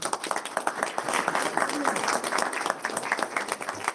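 Applause at a board of education meeting, a crowd clapping in a dense, moderately loud patter throughout, with some voices mixed in beneath it.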